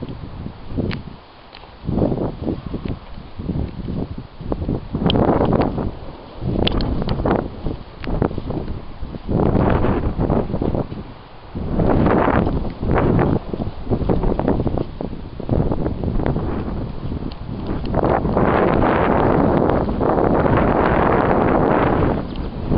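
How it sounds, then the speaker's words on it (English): Strong gusty wind buffets the microphone outdoors, with loud low rumbling bursts that surge and ease over about twenty seconds, and no voices heard. "It is really windy outside"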